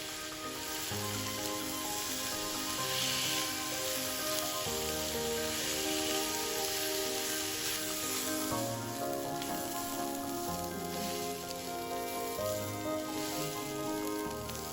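Drained glutinous rice being stir-fried in a pan, a steady close sizzle and crackle like rain on a surface, with music playing throughout and no talking.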